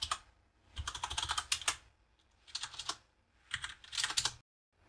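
A command is typed on a computer keyboard in quick clattering bursts of keystrokes, with short quiet gaps between runs, close and fairly soft.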